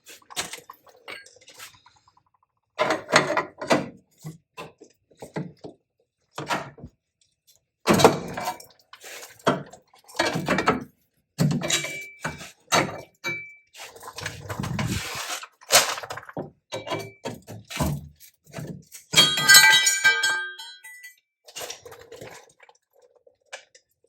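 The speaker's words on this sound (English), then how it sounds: "Let's try to just bend this bracket down and see how easy this bends." Metal bracket being bent down by hand during a King bump stop install on a third-generation Toyota Tacoma: irregular close clanks, scrapes and knocks in short bursts, with a brief brighter metallic rattle near the end.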